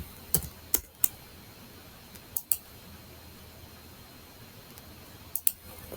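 A few sharp computer keyboard keystrokes enter a short AutoCAD command, arriving in small clusters of quick clicks with pauses between, close and crisp over a quiet room hiss.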